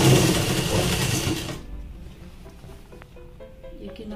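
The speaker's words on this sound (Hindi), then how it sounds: "यहाँ से हमको किनारे से सिलाई लगानी है।" A sewing machine runs along the side seam of a suit with a loud, close mechanical whir for about a second and a half, then stops. Faint clicks and handling noises follow.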